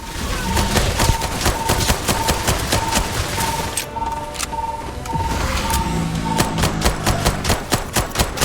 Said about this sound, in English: I led it into the area with concentrated turret fire